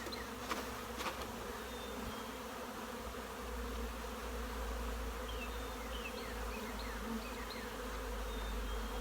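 Honey bees buzz around an opened hive during a hive swap, making a steady, close droning hum that continues unbroken, with a few faint knocks and no voices.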